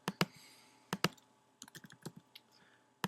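Someone types on a physical computer keyboard, with close, crisp key clicks in uneven bursts, a few isolated heavier strokes, then a quicker run of taps before one final keystroke, no voices.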